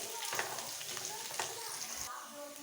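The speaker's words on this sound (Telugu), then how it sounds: "ఇటు పక్క ఎగ్స్ని ఫ్రై చేస్తున్నాను. ఉప్పు, కారం, పసుపు కలిపి ఇప్పుడు ఇక్కడ ఫ్రై అవుతున్నాయి" Eggs frying in a pan with salt, chili powder and turmeric, a steady close crackling sizzle with small bursts of spatter throughout, no voices.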